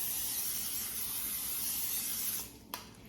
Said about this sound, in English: we're gonna spray it with some olive oil spray, 0 calories